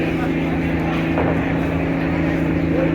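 A large passenger river launch idles at Barisal ghat with a steady low engine drone and humming tones. Someone talks over the noise at close range.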